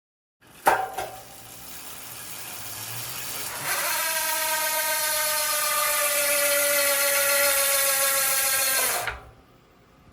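Freehub on ENVE 4.5 bicycle wheels ratcheting in a steady, rapid buzzing click as the wheel spins freely, starting with a sharp knock, then a long loud even whir that cuts off abruptly near the end.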